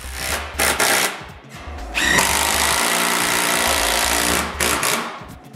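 A power screwdriver drives screws into a wooden interior door frame in short bursts, with one sustained whirring run in the middle, close and fairly loud.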